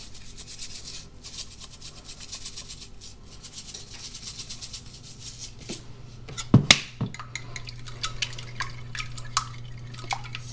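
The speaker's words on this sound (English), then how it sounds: "So just whisk them up as much as you want them whisked up." Eggs seasoned with a salt, pepper and garlic blend are whisked in a bowl, with fast rhythmic strokes and soft clinks, followed by a few louder knocks and scattered taps close by.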